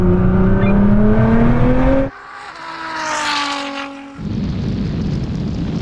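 A Ferrari SF90 and a 1000 hp Nissan GTR race side by side from a rolling start. Loud rising engine roars climb in pitch, drop suddenly at a gear change, then surge again with a whooshing rush of wind.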